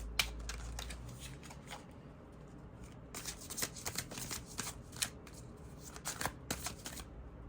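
Tarot cards are shuffled up close in a quiet room, with repeated riffling, flicking and snapping bursts of card noise.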